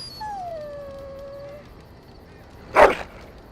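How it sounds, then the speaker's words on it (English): A dog in the fantasy role-playing game Dragon Age: Origins gives a long falling howl with a fainter echoing second tone, then after a pause lets out one short sharp bark. "Your dog is filthy."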